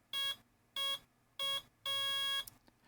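Four loud, tonal electronic beeps from a drone's electronic speed controller during calibration, three short and one longer, in a steady rhythm, close and clear.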